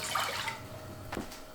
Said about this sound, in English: Then I'm just going to add some white vinegar,